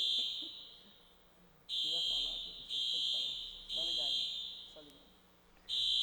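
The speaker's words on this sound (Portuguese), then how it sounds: "o apito do alarme contra incêndio" A fire alarm sounds in loud repeated bursts during a seminar, each lasting about a second with short gaps, while a person speaks quietly underneath.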